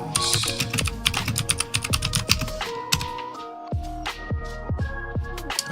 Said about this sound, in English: I'm just typing a bunch of stuff to do.